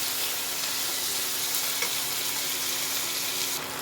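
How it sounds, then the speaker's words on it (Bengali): Chopped tomato fries in hot oil with green chilli for an egg tarka, a steady, dense sizzle holding evenly throughout at close range with no talking. "টমেটোটা পুরোটাই দিয়ে দিলাম, দিয়ে এটা ভালো মতো ভেজে নেব"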